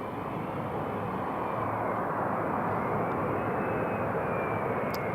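An Air France Embraer 170 airliner lands on runway 07 at Newcastle International Airport, its engines a loud, continuous roar and rumble that holds steady throughout, with no voices over it.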